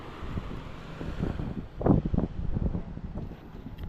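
Steady wind rushing across the microphone at the seashore in Dinahican, Infanta, Quezon, during Typhoon Pepito, with gusty broadband bursts and a low rumble throughout, fairly loud and close.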